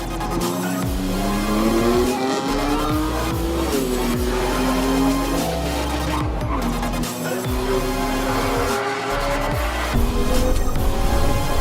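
New BMW M4 race car on Hoosier R6 semi-slick tires at a time attack event, its engine roaring loud and continuous as revs climb and fall through gear shifts, with brief dips between pulls.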